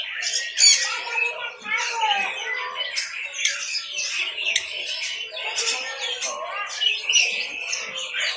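Nguri birds at Pramuka bird market in Jakarta squawk and chatter in a dense, continuous chorus of harsh, overlapping calls, close and lively with barely a pause.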